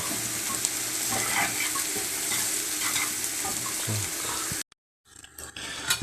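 Beetroot sizzles and crackles steadily in a hot pan, with occasional stirring scrapes, then the sizzle cuts out briefly before resuming more quietly.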